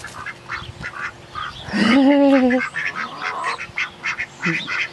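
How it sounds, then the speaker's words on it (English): Ducks quack and honk close by among backyard poultry, one loud harmonic honking call near the middle with scattered quieter calls around it. "Come on, duck, duck, get out here by your bodyguards"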